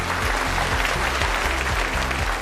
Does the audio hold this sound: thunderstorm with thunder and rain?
no